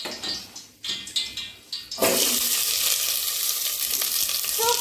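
Hot oil in a pan breaks into a loud, steady sizzle after a few soft clinks and stirring scrapes, frying on without pause close to the listener.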